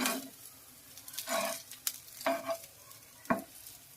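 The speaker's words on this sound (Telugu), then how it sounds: "గోల్డెన్ బ్రౌన్ కలర్లోకి వచ్చేదాకా మనము ఇలా" A murmura cutlet fries in oil until golden brown, with bursts of bubbling sizzle and sharp spatula scrapes and taps coming in uneven pulses, close and fairly quiet.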